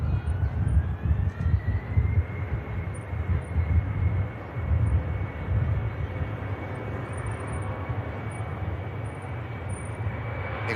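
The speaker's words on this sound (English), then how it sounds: "There goes the Embraer." Embraer jet airliner taking off from runway 05 left at Manchester Airport, a sustained rumbling engine roar with a rising whine, fairly loud and steady, heard alone.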